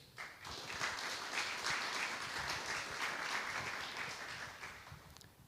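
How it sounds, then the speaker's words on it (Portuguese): An audience at a lecture on property rental law applauds steadily, a dense wash of clapping holding for several seconds before tapering off. "Eu peço uma salva de palmas para ele."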